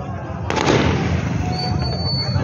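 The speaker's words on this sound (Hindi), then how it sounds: "ये फायरिंग भी हो गई है शुरू जी" Gunfire during a street protest where local people face a police contingent, a few sharp cracks early on followed by a rolling echo, with crowd noise and a faint whistle-like tone underneath.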